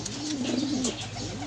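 Pigeons coo softly in a loft, a low rolling warble rising and falling through the moment over faint background hiss, with no talk.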